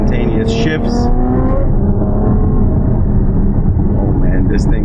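A loud, close Ferrari F12 Berlinetta engine revs with rising and falling tones, droning continuously, with voices talking over it.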